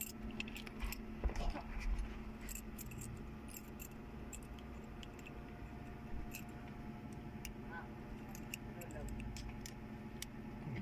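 A small padlock's keys jangle and clink in bright, scattered metallic bursts, close by, under a person talking throughout.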